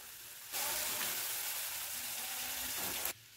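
Water splashes into a pan of frying mustard and tomato sauce with green chilies, for a pomfret curry. It sets off a sudden loud hissing sizzle that lasts about two and a half seconds and then cuts off sharply.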